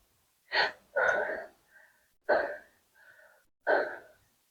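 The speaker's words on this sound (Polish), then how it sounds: "Zrób teraz kilka szybkich wdechów. To tak zwany oddech aktywujący" Several quick, sharp inhales of an activating breathing exercise, four forceful breaths in a steady rhythm with softer, breathy pauses between them, close and clear against silence.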